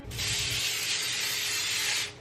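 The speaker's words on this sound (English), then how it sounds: "You can either use oil or a cooking oil spray to kind of cover the sheet with oil." Cooking oil spray hisses steadily onto a foil-lined baking sheet, one continuous close burst lasting about two seconds before cutting off, with no talking.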